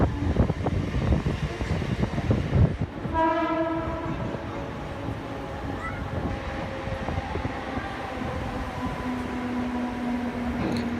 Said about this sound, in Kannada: ಟ್ರೈನ್ ಬಿಡ್ತು ನೋಡಿ